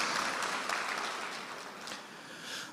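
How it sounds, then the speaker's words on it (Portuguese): A congregation at a church service applauds, a soft, dense patter of many hands clapping heard at a distance and fairly faint throughout. "Uma salva de palmas para Jesus."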